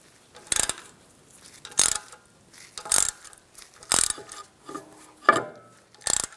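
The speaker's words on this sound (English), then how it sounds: "We're going to take this screw off, use a 5mm hex socket." A ratchet with a 5mm hex socket loosens a brake-area screw on a 2014-2022 Jeep Cherokee rear hub, giving six short, sharp clicking bursts spaced about a second apart, close and clear with no talk.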